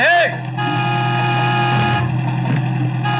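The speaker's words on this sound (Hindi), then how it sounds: "अरे हॉर्न नहीं सुनाई देता क्या?" A car horn blares steadily and loud, held for about three seconds with brief dips, over street noise.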